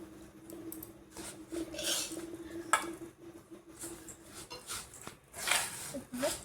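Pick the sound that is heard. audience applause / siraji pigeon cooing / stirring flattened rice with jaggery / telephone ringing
stirring flattened rice with jaggery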